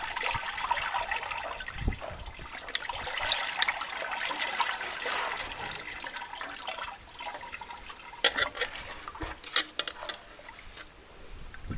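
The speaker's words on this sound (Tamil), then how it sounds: "இப்போ லிக்விட் ஃபெர்டிலைசர் ஃபில்ட்ரு பண்ணிட்டோம்" Homemade liquid fertilizer of vegetable scraps and black urad dal husks poured and strained for aloe vera plants, a steady running-water trickle with splashes and drips, fairly close and continuous.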